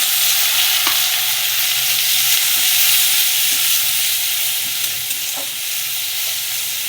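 Chopped onion frying in hot oil for a fish curry, a steady loud sizzle with faint stirring clicks, no voices.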